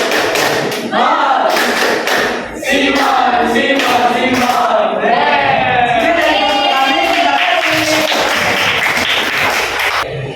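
A classroom of students chants a group cheer together, loud and close, with voiced shouting punctuated by rhythmic claps and thumps throughout.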